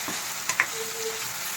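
Raw prawns stirred as they fry in a pan, a steady quiet sizzle broken by one or two short clinks of a spoon, close but soft, no voices.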